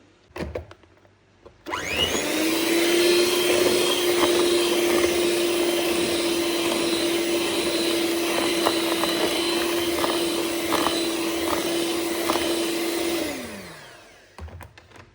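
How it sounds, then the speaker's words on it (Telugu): An electric hand mixer whirs steadily for about eleven seconds, beating eggs into batter for an Oreo cookies and cream cake, with a clear constant motor tone and a slow wind-down at the end. "ఇప్పుడు ఇందులో ఒక 3 ఎగ్స్ వేసుకొని మళ్ళీ బీట్ చేసుకోవాలన్నమాట"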